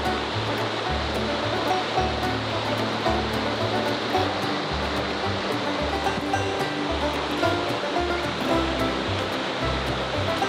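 Mountain creek water rushing and churning steadily over rocks, a loud, continuous close-up wash of flowing water with no voices, at a high-country trout stream.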